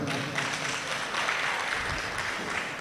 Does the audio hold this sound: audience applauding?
yes